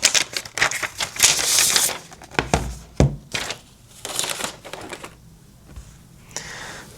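Packaging of a Kindle Scribe e-reader being opened, with sharp crinkling, tearing and tapping bursts of paper and plastic in an irregular rhythm, close and fairly loud, with no talking.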